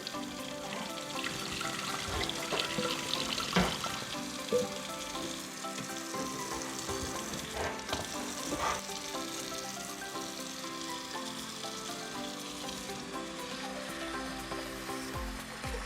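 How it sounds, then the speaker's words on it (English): Steady running water pours and splashes continuously, with light swishing as rice is rinsed beneath it; no one speaks. "Rinse off all that starchy water."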